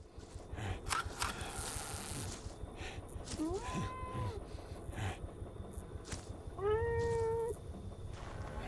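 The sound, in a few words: cat meowing in the video game Greyhill Incident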